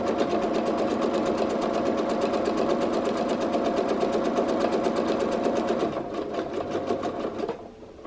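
A home sewing machine runs fast and steady during free-motion quilting, a close, even whir of rapid needle strokes that slows and stops near the end.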